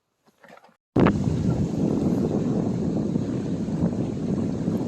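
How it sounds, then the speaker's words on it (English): After a brief quiet moment with faint sounds, wind suddenly rushes in and blows steadily and loudly across the microphone, a constant buffeting roar outdoors at George Lake in Killarney Provincial Park. "No bugs down here because it's windy."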